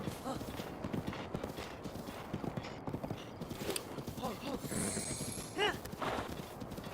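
Horse hooves clip-clop steadily in The Legend of Zelda: Breath of the Wild, a continuous trotting rhythm under game music and ambient effects, with a brief whinny-like burst near the end.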